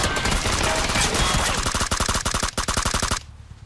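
Rapid automatic gunfire in the PUBG video game, a loud continuous burst of closely spaced shots that speeds into a dense rattle before cutting off abruptly.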